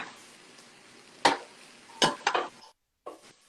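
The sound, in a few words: stirring chicken and shrimp fajitas in a pan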